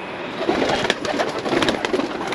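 Pigeons coo at a coop near a house in Nepal, a soft continuous murmur of overlapping low calls with a little outdoor hiss, steady and close throughout.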